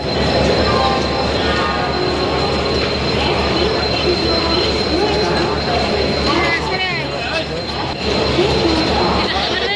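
Train at Howrah railway station, with a steady loud rumble of wheels and squealing running throughout amid crowd noise and voices.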